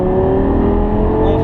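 A Lamborghini race car accelerates hard on a racing circuit, its engine roaring loud and steady with a rising drone throughout.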